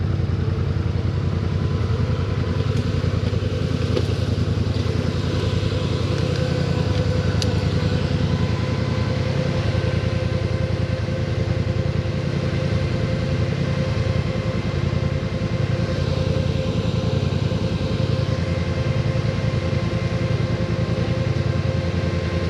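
Polaris Sportsman ATV on high lifter setup churning through mud, its engine droning steadily and loud throughout with occasional clatter, a continuous close rumble that never drops away.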